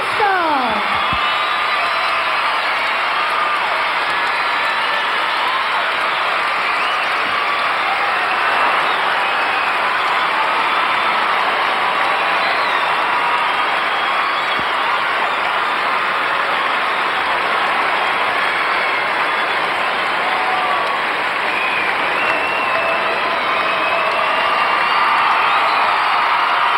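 A large arena crowd at a 1992 gymnastics competition, many of them young boys and girls, applauds and cheers gymnast Kim Zmeskal in a dense, steady roar of clapping and whoops that holds loud throughout.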